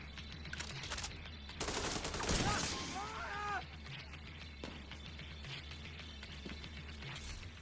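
Gunfire rattles in The Division 2 in quiet, scattered bursts of rapid shots, with a brief louder flurry in the middle over a low background rumble.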